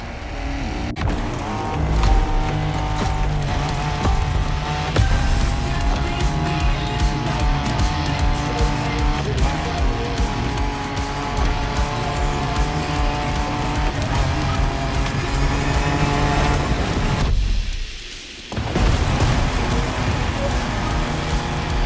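A race car drives off-road in The Crew Motorfest video game: a loud, continuous engine roar with rough gravelly road noise that runs almost throughout, briefly dropping away near the end before picking up again.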